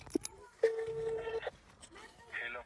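A phone call's ringback tone sounds as a short steady electronic tone in the middle of the clip, nearby and mixed with brief clicks and quiet talk.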